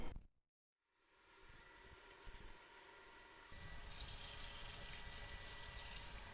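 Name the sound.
water poured into shower tray for flood test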